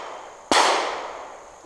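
Two sharp, loud shots ring out from a replica gun fitted with an EOTech EXPS3-0 sight, the first followed by a long decaying echo, the second arriving just over a second later.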